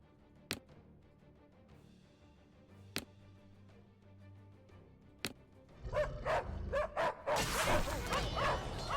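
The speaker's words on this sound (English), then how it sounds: "These dogs are incoming." Dogs in a video game, first a few sharp isolated barks spaced apart, then a burst of overlapping loud barking and yipping from several dogs near the end.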